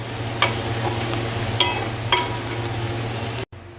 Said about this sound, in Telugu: మనం ఇప్పుడే ఎల్లిపాయలు వేసినాం కదా, కొంచెం నూనెలో మగ్గాలండి.